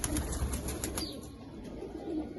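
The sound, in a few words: pigeons flapping wings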